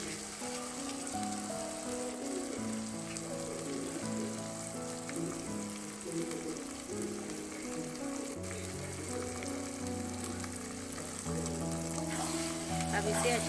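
Tomato, garlic and ginger paste fries in a pan for egg curry, giving a faint, steady sizzle throughout with a soft, continuous background underneath.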